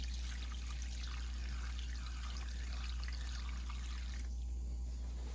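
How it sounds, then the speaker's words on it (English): A steady stream of water pours and trickles into an AC condensate drain, faint against a constant low hum, with no voices. "We're just going to pour a little bit more."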